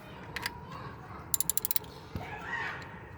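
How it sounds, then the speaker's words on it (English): A ratchet wrench clicks rapidly in a short burst of about six crisp ticks while loosening 10 mm bolts on a Toyota/Scion engine, with faint metallic handling sounds around it. "These bolts is 10 mil, so you're gonna undo each one."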